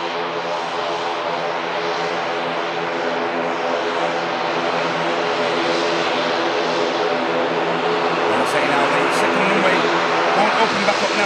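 A Boeing 747 jumbo jet on final approach at Manchester Airport produces a constant loud engine drone with steady tonal hum, growing slightly toward the end, while someone talks over it.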